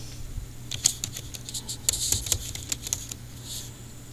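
Light, irregular clicking of fingers typing on a computer keyboard, with a few brief flurries of keystrokes over a faint hum and no talk.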